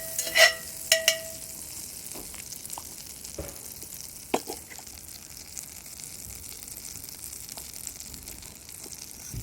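Butter sizzles quietly in a hot skillet on a rocket stove, a low, continuous hiss with a few sharp metallic clinks and taps near the beginning.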